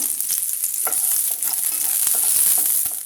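Cashew nuts frying in ghee sizzle with a bright, steady crackle close by, broken up by scraping stirring strokes, with no voices.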